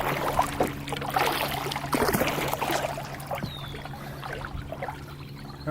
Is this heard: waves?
yes